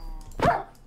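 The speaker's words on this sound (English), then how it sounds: "I'm telling you, I'm seeing more dogs lately" A single short dog bark from a Minecraft game with the SevTech Ages modpack, close and clear against a quiet background.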